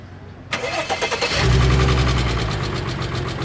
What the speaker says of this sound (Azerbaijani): İndi bax bir dənə sahibi xod işə salsın mühərriki.